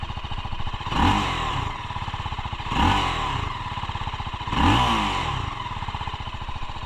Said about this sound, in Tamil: So exhaust note of RTR 310.